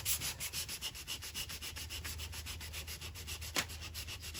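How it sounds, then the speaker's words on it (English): Wet sanding with fine sandpaper on the painted front end of a 1985 C4 Corvette makes a steady, rhythmic back-and-forth scrubbing, close and continuous, with one sharper scrape near the end. "We want to use a finer sandpaper now,"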